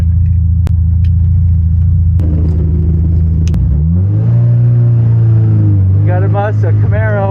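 A 330-horsepower Subaru STI on the Utah Motorsports Campus race track gives a loud, steady engine drone that climbs in pitch as it revs up through the second half, with a faint voice briefly heard near the end.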